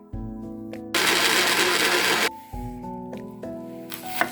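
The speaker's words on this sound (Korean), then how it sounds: "요걸 갈아서 풀국을 만듭니다. 갈겠습니다." A kitchen blender whirs loudly for over a second, purees boiled sweet pumpkin into porridge for dongchimi kimchi, then cuts off, leaving quieter clatter and handling.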